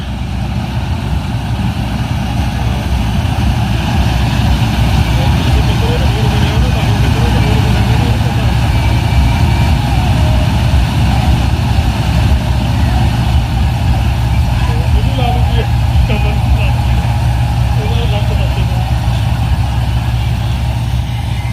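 A tractor engine idles nearby for the whole stretch, a steady, low, constant rumble with faint voices and clatter mixed in.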